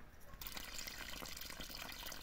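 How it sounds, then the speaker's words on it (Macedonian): After a short hush, water suddenly gushes from a tap and keeps running in a steady, close splashing stream. "водата пак дојде"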